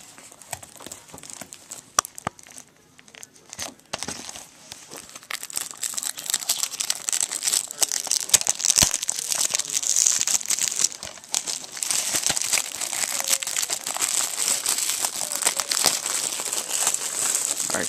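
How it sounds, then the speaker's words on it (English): Plastic shrink wrap is torn and crumpled off a Naruto Ultimate Ninja Storm 3 video game box, producing dense, close crinkling and crackling. It starts sparse, then grows into continuous handling noise. "Plastic is off"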